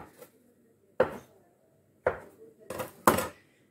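Knife cutting through rolled cheese bread dough on a board; four crisp, separate knocks of blade on wood spaced about a second apart, close and clear over quiet.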